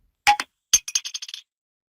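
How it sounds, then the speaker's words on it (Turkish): Coin-drop notification tone from the Letgo app on a phone: a bright metallic clink, a short pause, then a quick cascade of about seven jingling coin chinks that settles and stops, heard alone. "benim seçtiğim seçenek bozuk para sesiydi"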